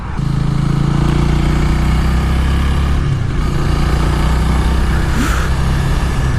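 A 2018 Honda Rebel 300 motorcycle engine drones steadily while riding, a loud, continuous mid-pitched hum with wind rush layered on top throughout.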